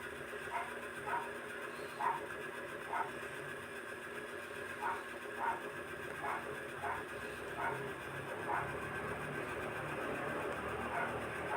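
A Panasonic automatic washing machine, earlier showing a U11 drain error, runs its wash cycle with a steady low motor hum and periodic rhythmic sloshing and churning pulses, heard close up.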